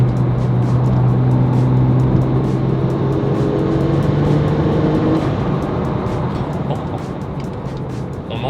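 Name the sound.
Porsche 911 997 Turbo engine and turbos accelerating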